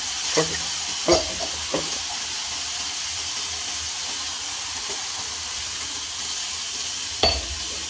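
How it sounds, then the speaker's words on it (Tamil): Chicken in a ground masala paste, stirred after a splash of water, sizzles and hisses steadily in the pan, with a few sharp scraping clacks of the spoon near the start and again near the end. "அடுத்து லேசாக தண்ணியை ஊற்றி கலக்குங்க"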